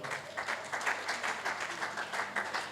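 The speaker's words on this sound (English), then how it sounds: "Please, a round of applause for man of God." Moderate applause from an audience at a public speaking masterclass, a cluster of claps rising and falling over a short stretch, fairly faint and without talk.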